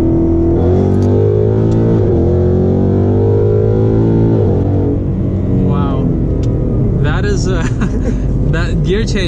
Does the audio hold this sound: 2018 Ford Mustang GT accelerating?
yes